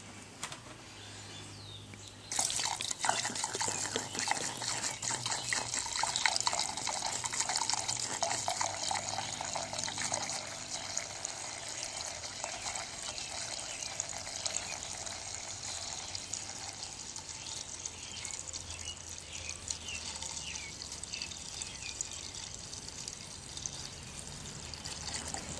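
Gasoline being poured into a portable generator's fuel tank: a steady, continuous pour that starts abruptly after about two seconds and runs unbroken to the end, close and moderately loud with no talking.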